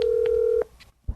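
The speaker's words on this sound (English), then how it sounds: "Let's call him right now" A single steady telephone dialing tone rings out loud and clear for about half a second, with short tone bursts after it, then a low thump as the line connects.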